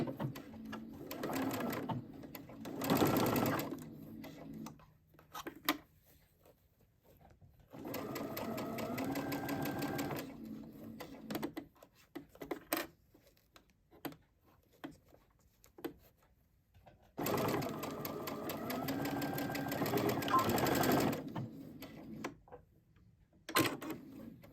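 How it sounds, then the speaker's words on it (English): A sewing machine back stitches a fabric seam at a 3/8 inch allowance for a small fabric wristlet keychain, running in two long steady bursts with short pauses and brief start-stop runs between, close and clear with no talking. "Going to back stitch at the beginning and the end."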